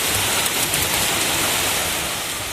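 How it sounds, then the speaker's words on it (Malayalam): Steady heavy rain pours outside with wind, a dense continuous hiss at even loudness throughout, with no voices. "പുറത്ത് നല്ല മഴയുണ്ട്, നല്ല കാറ്റുണ്ട്"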